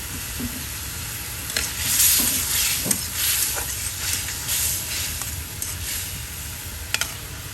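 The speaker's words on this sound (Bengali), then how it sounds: "আর সেই মাছগুলো আপনার ভালো করে মশলার সাথে কষিয়ে নেওয়ার পরে আলুগুলো দিয়ে দেওয়া হবে।" Pangas fish pieces frying with spices in a pan, a soft steady sizzle broken by the scrape and clatter of stirring at irregular intervals, fairly quiet and close.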